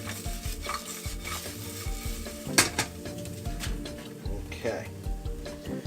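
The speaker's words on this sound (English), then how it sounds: "so we've got our mushrooms getting ready to start sizzling." Ham, mushroom and cheese omelette cooking in a frying pan, with a steady close sizzle under stirring, scraping and clinking of utensils against the pan, plus occasional sharper knocks.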